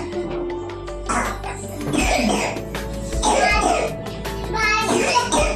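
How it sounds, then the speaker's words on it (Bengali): A small child coughing indoors at home, several rough coughs and throat-clearing sounds broken up by a voice and some chatter between them. "এই যে একজনের কাশি"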